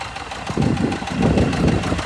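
A tractor engine running nearby, giving a loud, low, rhythmic throb with knocking pulses over a couple of seconds and no talking.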